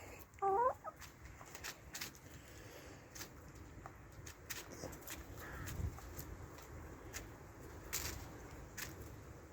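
A rooster gives a short, clear cluck early on, followed by faint scratching and soft outdoor rustling with occasional light clicks.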